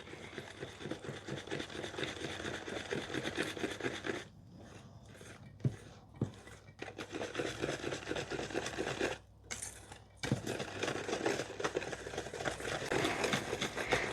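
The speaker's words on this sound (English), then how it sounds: "So we whisk this through first" A whisk beats a batter-like mixture in a bowl to break up lumps, a steady rapid scraping and rattling churn running almost continuously with two brief pauses, close and fairly loud.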